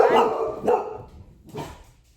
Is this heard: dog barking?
yes